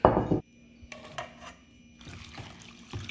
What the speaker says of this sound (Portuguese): Coloque tudo numa panela.